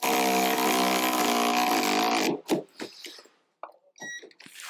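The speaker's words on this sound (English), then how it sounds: "just wind it in, get it started" A bolt is wound into the front right seat belt mount of a 2001–2006 Land Rover Defender with a power tool, which whirs loudly and steadily for about two seconds before it stops, followed by a few sharp metallic clicks and knocks.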